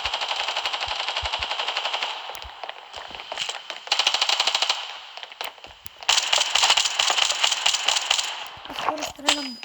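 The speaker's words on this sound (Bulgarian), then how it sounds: "стрелям буквално на празно" Automatic gunfire from the mobile shooter game Standoff 2, loud rattling bursts in several long strings separated by short pauses, with scattered single shots and clicks and no talk over it.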